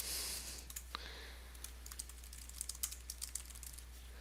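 Fingers tap out irregular bursts of keystrokes on a computer keyboard, soft close clicks over a quiet room with a low steady hum underneath.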